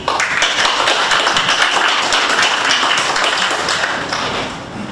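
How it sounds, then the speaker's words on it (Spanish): An audience at a talk on InSAR satellite technology claps in sustained applause, many hands together, dense and lively before tapering slightly near the end. "Recibámoslo con un caluroso aplauso."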